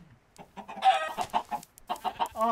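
Chickens in a video game set in a chicken coop, clucking and squawking close by in quick, choppy bursts, several calls overlapping and loud, with no talking over them.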